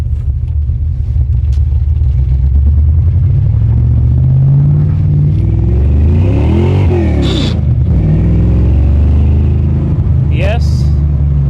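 A 1989 Ford Mustang GT Foxbody driving, its loud V8 rumbling steadily up close from inside the car, rising and falling with revs, while someone talks over it.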